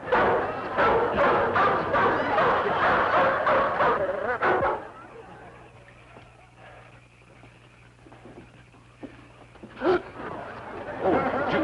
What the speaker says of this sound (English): There's a big dog running loose in the yard